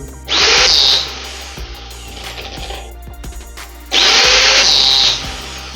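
An angle grinder under repair, running with an odd mechanical noise, whines loudly in two short bursts as it is switched on and spun up, with rattling and handling clatter in between.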